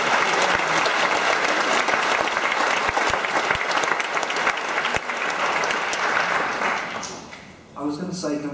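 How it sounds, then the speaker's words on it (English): Loud, sustained applause from a large crowd, dense clapping throughout that thins and fades near the end. "give me a round of applause"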